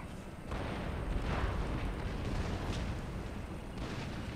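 Cannon fire in the Empire Total War video game, a continuous dense rumble of battlefield booms and bursts heard at low level throughout.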